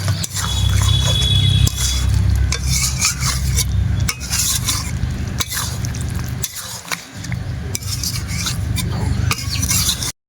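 Chicken being stirred with curdled sour yogurt in a pan for chicken kanti: continuous scraping and wet churning, close and fairly loud, with brief pauses between strokes and no talking.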